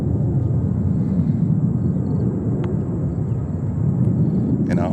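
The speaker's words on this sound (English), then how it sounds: "We have another JetBlue 220-300 coming in from Atlanta," JetBlue Airbus A220-300 jet arriving at JFK Airport, heard as a steady, moderately loud broadband rumble and roar without a clear rise or fall, with brief faint clicks near the end.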